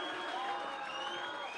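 A crowd at a kickboxing fight applauds and cheers in a steady, dense wash of clapping and voices, fairly far off.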